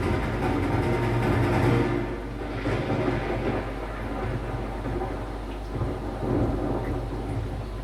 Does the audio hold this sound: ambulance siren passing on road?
no